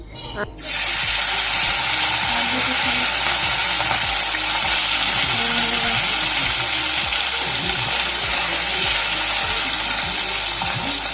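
Small cleaned fish frying in a pan of hot oil, a loud, dense, continuous sizzle that starts abruptly and holds steady close up, with faint scraping and clatter underneath.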